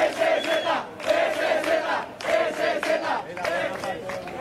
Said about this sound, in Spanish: ¿Hace cuánto que no veía una ovación así en una plaza?